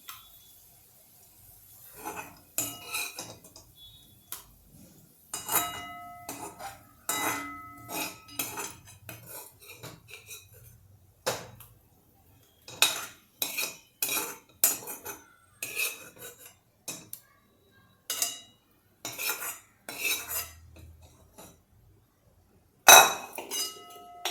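A metal spoon scrapes and clinks against a pan as cooked chivali bhaji greens are scooped out into a bowl. The clinks come as irregular, close taps and knocks, with quiet gaps between them.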